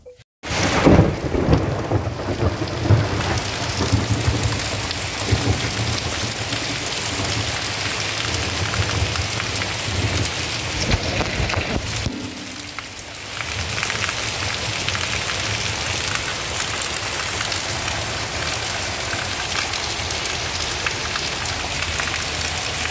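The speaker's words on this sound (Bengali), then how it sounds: "বিশাল জোরে জোরে বৃষ্টি হচ্ছে, আর ভীষণ জোরে বাজ পড়ছে" Heavy rain pours in a dense, steady roar while thunder rumbles loudly, easing briefly before the downpour continues.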